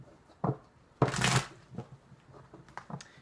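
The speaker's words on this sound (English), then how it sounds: "Let's shuffle these cards." Close, crisp riffling of tarot cards being shuffled, one long burst of flicking followed by softer taps and slides.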